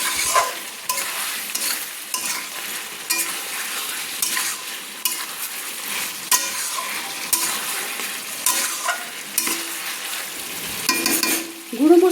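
A spoon stirs chicken coated with ground spices, cumin powder and salt, in a sizzling frying pan, producing steady scraping and frying crackle with no talking.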